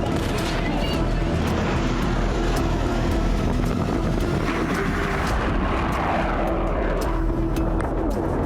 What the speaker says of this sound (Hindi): आसमान से लड़ाकू विमान बम बरसा रहे हैं।